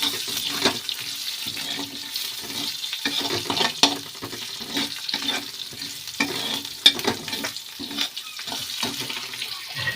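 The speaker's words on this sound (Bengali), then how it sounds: "ফোড়নটা একটুখানি জাস্ট আমার ভাজা ভাজা হবে।" Panch phoron five-spice and chilli frying in oil in a pan: a soft, continuous sizzle with light stirring scrapes and small crackles throughout, moderately quiet and without speech.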